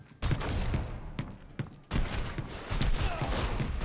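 Rapid bursts of rubber bullet gunfire in a video game, dense and loud, with sharp individual shots and thuds breaking through a brief lull before the firing resumes.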